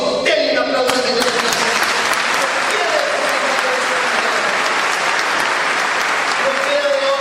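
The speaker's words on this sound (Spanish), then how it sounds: "Denle un aplauso a Dios." A church congregation applauds steadily and loudly throughout, a dense wash of clapping with crowd noise and a few voices mixed in.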